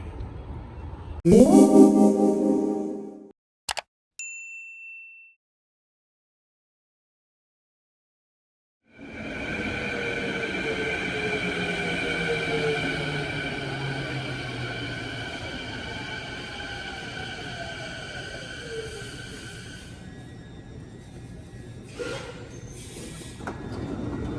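Train ride in Vancouver: after a short burst of noise and a brief silence, a rail car rumbles along steadily with wheels squealing and drawn-out tonal whines, continuous and fairly loud throughout.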